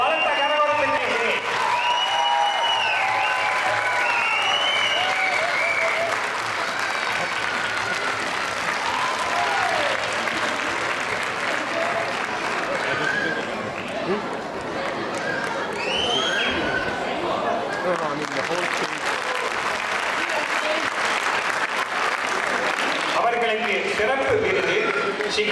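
Enthusiastic audience applause fills a hall at a Chicago Tamil Sangam Pongal festival stage event as Poornima Bhagyaraj is welcomed, sustained dense clapping with crowd noise and voices mixed in, loud and continuous.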